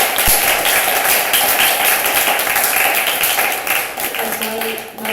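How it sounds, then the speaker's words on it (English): An audience at an evening panel event on a just energy transition claps for the panelists, a dense, steady wash of applause lasting several seconds with voices faintly mixed in. "So yeah, also a great applause for our two panelists."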